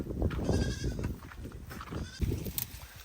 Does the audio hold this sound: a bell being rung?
no